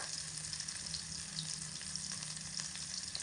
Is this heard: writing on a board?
no